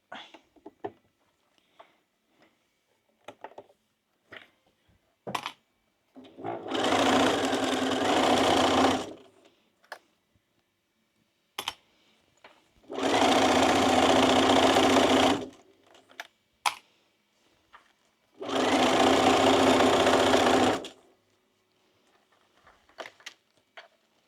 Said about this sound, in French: C'est la première fois que je vous emmène avec moi à la machine.